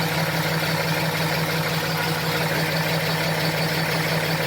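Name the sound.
FASS fuel pump noise on idling truck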